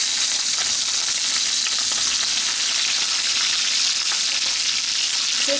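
Fish fries in hot oil, and a dense, steady sizzle and crackle runs unbroken and close throughout with no voices.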